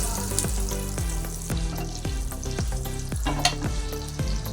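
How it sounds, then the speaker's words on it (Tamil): Prawns frying in butter in a hot pan, a dense close sizzle punctuated by repeated rhythmic scraping and stirring strokes, loud and without talk. "இப்போது ஃப்ரை பண்ணுவோம்."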